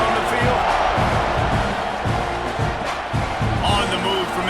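Stadium crowd in the College Football 26 video game, a steady roaring wall of noise with scattered cheers throughout, heard under a play-by-play commentator's voice.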